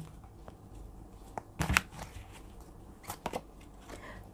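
A Romance Angel tarot or oracle card deck is shuffled in a quiet room, giving two short, soft bursts of riffling and flicking close by, with low background noise between them.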